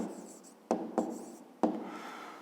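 Pen writing out the answer to a math problem on paper, soft scratching strokes with a few sharper taps as the pen touches down, faint and close.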